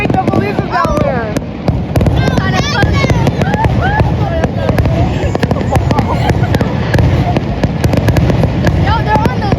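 Fireworks shot off during a 4th of July night in Ocean City, Maryland, crackle and pop in rapid, dense bursts close by, mixed with whistling rockets, while excited people talk and shout throughout.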